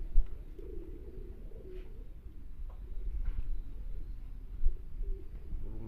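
Pigeons coo softly and intermittently at a weekend bird gathering, large birds close by over a steady low rumble of background noise.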